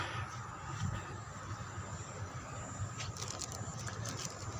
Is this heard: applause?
no